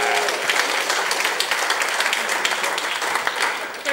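At a Sunday church service, a congregation breaks into steady applause with some cheering, a dense wash of clapping that holds for several seconds before tapering slightly.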